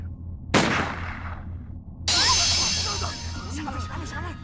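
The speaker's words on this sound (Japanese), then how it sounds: "銃声" A sharp gunshot cracks, followed a moment later by a second loud blast with a long noisy tail over a low background rumble.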